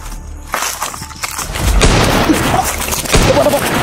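Loud gunfire in a game, sharp booming shots over a dense, noisy backdrop with continuous rumble.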